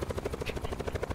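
A helicopter's rotor thumps in a rapid, steady beat, moderately loud and continuous throughout, in the video game Call of Duty: Blackout.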